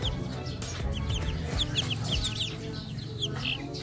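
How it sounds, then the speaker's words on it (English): Several Rhode Island Red hens cluck and chatter close by, with short bright calls overlapping a steady low farmyard rumble. "So eto, dalawang hen to guys."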